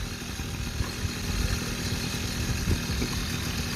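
A yellow 1978 Honda Express moped's small engine runs steadily nearby, a buzzy continuous putter with slight rises in revs and no one speaking.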